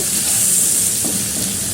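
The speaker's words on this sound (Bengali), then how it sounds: "কুচি করে পেঁয়াজ কেটে রেখেছিলাম সেটা দিয়ে দিচ্ছি একটু ভাজা ভাজা করে নেব" Chopped onion sizzles in hot oil with cardamom, cinnamon and cloves for a katla fish curry, a steady, close, bright frying hiss with no one speaking.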